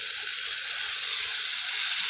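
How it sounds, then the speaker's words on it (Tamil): Chopped tomatoes drop into a pan of frying broccoli egg masala, giving a loud, steady, hissing sizzle that holds evenly throughout with no talk. "நான் நல்லா 2 தக்காளி கட் பண்ணியிருந்தேன், அப்படியே இதோடு சேர்த்துடணும்"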